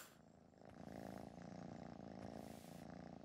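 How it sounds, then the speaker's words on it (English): Soft, steady purring rumbles close by in rhythmic waves, continuous and fairly quiet with no voices. "You're stroking Enid the cat."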